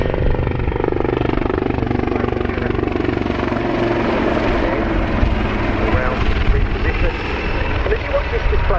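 A helicopter's rotor and engine thrum loudly and continuously nearby during an airshow flying display at RAF Cosford, with a commentator's voice over the top.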